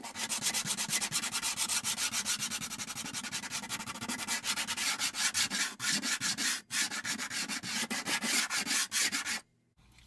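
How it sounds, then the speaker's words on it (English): Sanding stick with 60 grit rubbed over texture paste on balsa wood, a steady, loud scratchy rasp of rapid back-and-forth strokes, briefly pausing near the end. "Take a sanding stick with 60 grit."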